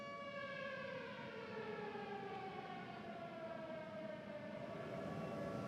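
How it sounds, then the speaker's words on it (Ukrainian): A civil defense air raid siren wails continuously in wartime Ukraine, a faint, distant rising-and-falling tone that sustains throughout with no speech over it. "Yes, I can hear the siren."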